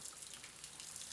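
A paintbrush is rinsed under water in a sink, a brief, steady, faint hiss of running water.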